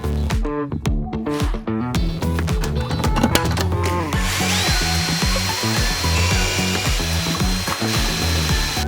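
Power tool driving bolts to fasten pieces of trash together, with loud ratcheting bursts and whirring spins in rapid repeated pulses, close up, followed by steadier mechanical grinding.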